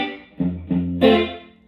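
A Fender Jazzmaster electric guitar played with a clean, undistorted tone: three plucked notes or chords, each ringing briefly before the next, the last one brighter and fuller, played alone at moderate volume.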